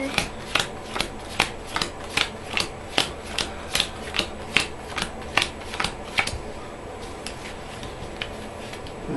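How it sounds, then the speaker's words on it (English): A deck of Arkham Horror cards being shuffled at a game table, a close run of quick, evenly spaced riffles and snaps repeating in a steady rhythm before trailing off into softer handling. "I'm just gonna shuffle this more than once."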